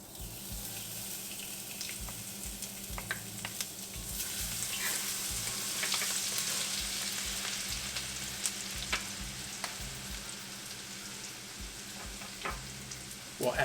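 Ginger fries in a pan as the base of a Gobi Manchurian gravy, a steady close sizzle with scattered crackles that continues without a break.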